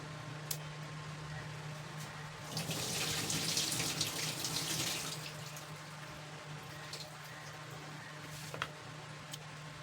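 Water runs from a tap into a basin with a splashy hiss that swells midway as grated potatoes are put in, then eases to quiet drips and clinks.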